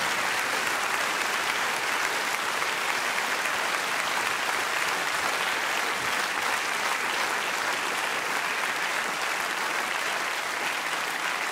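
A large audience applauds at a folk-music show: dense, loud, sustained clapping that holds steady and unbroken from start to finish, with no speech over it.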